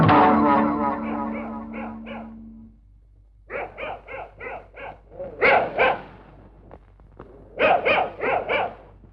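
A dog in an old Malayalam comedy film scene opens with a drawn-out whining howl. After a short pause come several clusters of sharp, close barks in quick bursts.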